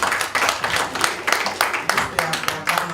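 Audience applause after a metabolomics presentation at a closing ceremony, a steady run of dense clapping with irregular louder bursts, moderately close, mixed with some crowd voices.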